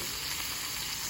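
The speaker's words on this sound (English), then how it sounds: "So the skillet is screaming hot. Woo! Can you hear that sizzle?" Potatoes sizzle in a screaming hot skillet set on a grill, giving a steady, dense, crackling hiss that holds evenly throughout, close and fairly loud with no voices over it.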